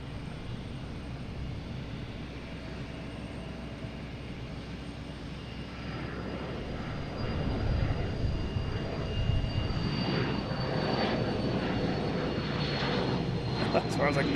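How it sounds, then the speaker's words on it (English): An Embraer Phenom jet is heard at Boston Logan airport as a steady, distant engine rumble that grows louder partway through, with a voice talking over it. "Here we have Embraer Phenom."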